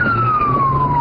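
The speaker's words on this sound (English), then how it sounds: "The sound of the police siren was recorded by a Paradise police officer racing to the house." Police car siren recorded from a Paradise police officer's vehicle racing to a house, a loud, steady descending wail that fills the short stretch alone.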